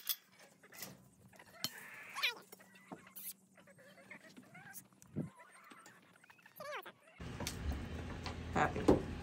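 Chickens raised on a farm since they were chicks cluck and squawk in scattered bursts at moderate distance, with a voice talking intermittently over the birds.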